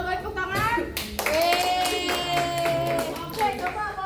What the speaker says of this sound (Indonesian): Betul, baik tepuk tangan.